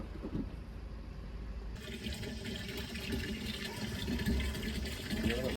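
Water pours steadily into a container, a continuous rushing splash that grows slightly fuller toward the end.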